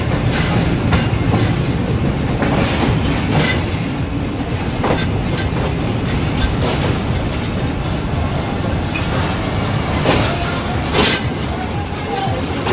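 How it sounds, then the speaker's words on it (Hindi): A passenger train rolls into Lahore station with a continuous loud rumble and clickety-clack of wheels on rails, broken by occasional sharp clanks and a faint high squeal near the end. "फाइनली लाहौर आ चुका है और हम अपनी ट्रेन में से उतर चुके हैं"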